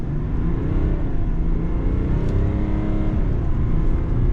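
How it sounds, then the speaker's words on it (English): A 2021 Chevy Duramax 1500 pickup with the 3.0 diesel and an S&B cold air intake pulls away from a standstill, heard from inside the cab as a steady, full engine drone that rises through the gears without a break, with no talking. "we're gonna do some noise from inside the truck, see how it is from a takeoff"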